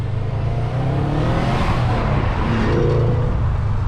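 A 2011 Subaru WRX with an Invidia Q300 catback exhaust gives a loud, deep, continuous rumble, close and steady throughout the short stretch.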